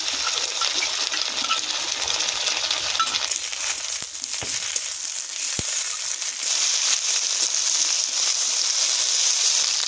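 A ginger, garlic and green chilli paste fries in hot oil, giving a loud, continuous sizzle with a few clinks and scrapes from stirring in the pan.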